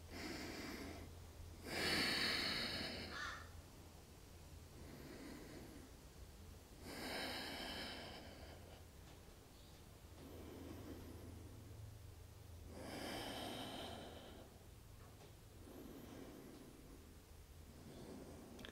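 Slow, deep breaths held through a chest-lifting yoga backbend, four broad rising-and-falling breath sounds spaced a few seconds apart, close and soft with no talking.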